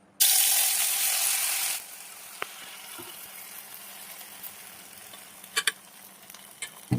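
Batter poured into hot oil in a wok hisses loudly for about two seconds, then settles into a quieter steady sizzle with a few clicks and scrapes of a utensil.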